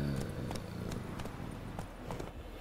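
Horse hooves clip-clop in The Witcher 3 game, a steady run of faint, evenly spaced thuds over continuous background game noise.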